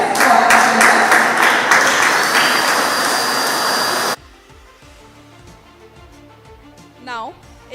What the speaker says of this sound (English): Let's have a huge round of applause, guys.